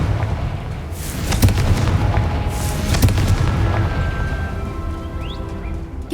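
A Confringo explosive spell cast in Hogwarts Legacy bursts with booming blasts amid game sounds, with sharp impacts around one and a half and three seconds over a rumbling background.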